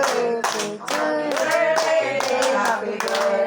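Hands clapping along to a birthday song at a family gathering, a loud, close, steady rhythmic beat mixed with the sung melody.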